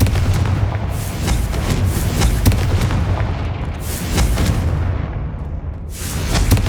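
Confringo blasting spell explosions in the Hogwarts Legacy video game, loud booming blasts and bursts repeating across the clip over a dense rumbling game backdrop, no talk.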